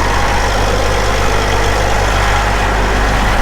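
A tractor engine idles after pulling a chisel plow on a farm, giving a steady, loud low rumble with an even drone and no talk over it.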